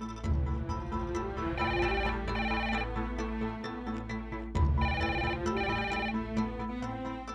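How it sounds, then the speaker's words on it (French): A telephone rings in repeated electronic ringtone bursts, two clear cycles of a bright melodic trill over a steady low background, with no talking. "Le téléphone sonne."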